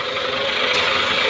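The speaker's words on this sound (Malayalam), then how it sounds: "അഷ് എന്നുള്ള ഒരു ചെറിയൊരു സൗണ്ട് കേൾക്കുന്നത് ആ ഫ്ലൂഡിൻ്റെ പ്രഷറിൻ്റെ തള്ളിച്ചയുടെ ഒരു സൗണ്ടാണ്" A steady, loud broadband hiss from the power steering fluid pressure of a Maruti Suzuki Baleno, heard close with a constant engine drone beneath it and no change over the short span.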